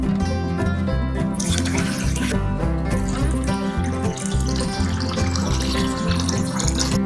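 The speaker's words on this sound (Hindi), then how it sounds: "पहले हम लेंगे एक पतीली में 1 लीटर पानी।" About a litre of water poured into a cooking pot for a spiced weight-loss tea, a steady, fairly loud splashing stream with rising gurgles, heard without speech.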